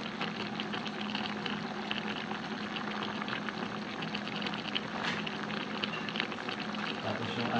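Chicken igado stew with water and tomato paste bubbling in a covered pot, a steady close rolling boil that continues evenly throughout.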